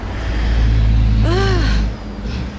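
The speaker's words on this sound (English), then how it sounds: "Very loud traffic." Loud road traffic roars steadily nearby with a low rumbling engine drone and a brief rising whine as a vehicle passes, fading slightly toward the end.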